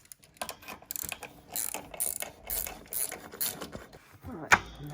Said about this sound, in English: get the 10mm socket on those to undo this plate